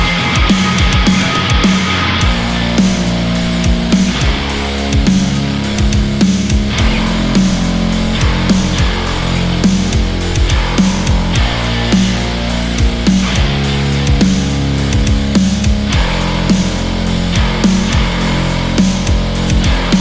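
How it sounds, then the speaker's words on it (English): A heavy, distorted 808-style bass synth pounds out a repeating pattern with gliding low notes under a busy beat, loud and gritty throughout. "So I've made this 808 type of sound in Vital."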